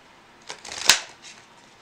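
Angel tarot cards shuffled close by in one quick riffle, a brief crisp flutter peaking in a sharp snap, then quiet.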